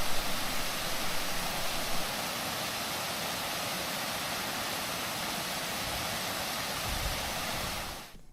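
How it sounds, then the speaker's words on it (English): Water pours steadily over a stone spillway along a mossy brook near Wadsworth Falls in Middletown, Connecticut, a loud, unbroken broadband rush that stays close and constant before cutting off at the end. "The stone and moss and the flow of water over the spillway along the Ellen Doyle Brook is gorgeous."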